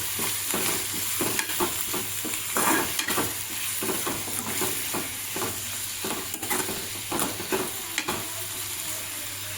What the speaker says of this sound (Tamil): இது ரொம்ப வதங்க வேண்டாங்க, கொஞ்சோண்டு அதை வெங்காயம் மட்டும் கொஞ்சம் கலர் மாறினா போதும்.